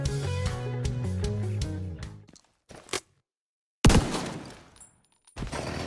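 Shotgun blasts from The Division 2 in rapid bursts under a musical intro, then a loud single blast after a silent gap, followed by more firing.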